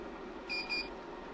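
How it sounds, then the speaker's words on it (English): Two short, clear electronic beeps sound in quick succession from a chocolate tempering machine's Seed Out alert, over a faint steady hum. "the flashing Seed Out button, which is accompanied by a series of beeps"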